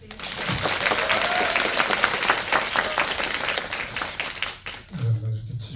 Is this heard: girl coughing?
no